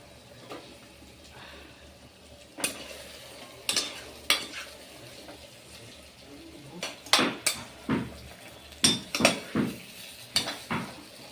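Brinjals dropped into hot oil in a pan and stirred, with a low sizzle under repeated sharp clanks and scrapes of a spoon against the metal pan in an uneven rhythm.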